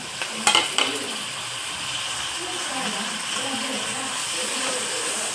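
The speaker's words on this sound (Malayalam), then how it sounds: "ഇനി നമുക്ക് കറിവേപ്പിലയും ഇച്ചിരി കരുവേപ്പില ആദ്യം ഇട്ട് കൊടുക്കാം ടൊമാറ്റോയും പച്ചമുളകും ഇട്ട് കൊടുക്കാം" Curry leaves, tomato and green chilli dropped into hot oil in a pan, a sharp burst of spitting and crackling as they go in, then a steady loud sizzle with occasional stirring clinks.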